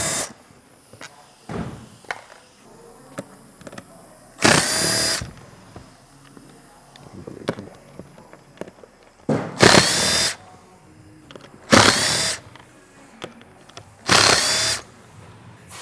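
Power drill backing screws out of a motorcycle seat cover's plastic bottom, several loud separate whirring bursts with small clicks and handling noises between them.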